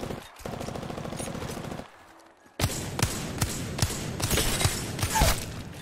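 Wingman pistol shots in a video game firefight, a series of sharp repeated bangs after a stretch of game music, close and fairly loud.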